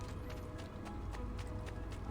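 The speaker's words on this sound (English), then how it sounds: "I am stealing your horse." A horse in the Assassin's Creed video game clip-clops along at a quick even pace, faint, with regular hoof thuds over low background noise.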